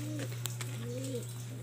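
Pigeons in a loft give soft, low cooing calls, two rolling coos in quick succession over a steady background hum, close and fairly gentle.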